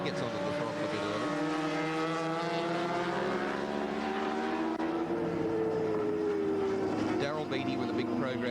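A Torquay V-twin superbike races at Phillip Island in a 1990 Superbike World Championship round, its engine note rising and holding steady as the rider gets on the throttle, heard under a race commentator's voice.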